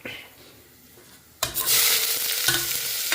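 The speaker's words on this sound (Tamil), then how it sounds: "இது போட்டு நல்லா பொன்னிறமாக வறுத்துக்கணும்" Onion frying in oil with cinnamon and a bay leaf starts quiet, then a loud sizzle bursts in about halfway through as the pan is stirred and keeps crackling steadily to the end.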